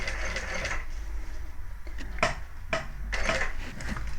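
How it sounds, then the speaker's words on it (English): A sewing machine top stitches along the edge of a handbag, producing a steady low mechanical whir close by, broken by a few sharp clicks and brief bursts of louder stitching. "I'll top stitch down this edge"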